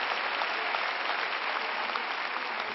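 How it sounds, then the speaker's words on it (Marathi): An audience claps in steady, dense applause, close and even for a few seconds with no pauses. "मी टाळ्या वाजवते तुमच्यासाठी"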